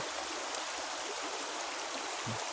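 The Tagbangan River streams and rushes in a steady, broad wash of flowing water, constant and moderately loud, with no voices.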